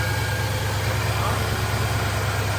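The engine of a Saleen XP8 idles steadily in a low, continuous rumble, restarted after years sitting as a barn find, with people talking over it.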